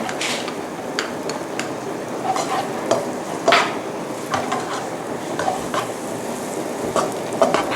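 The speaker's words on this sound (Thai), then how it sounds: "เริ่มจากการใส่เนยลงไปในกระทะนะคะ ตามด้วยกระเทียมนะคะ" Butter and garlic frying in a pan for American fried rice, a steady sizzle under repeated stirring scrapes and light clinks of a utensil against the pan, close and fairly loud with no talking.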